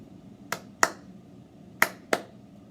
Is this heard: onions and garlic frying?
no